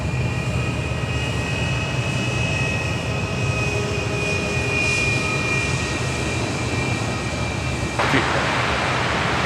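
Aircraft flying over the airfield at Sydney Airport, a steady broad engine roar with a sustained whine, continuous and moderately loud throughout, with a brief sharper burst near the end.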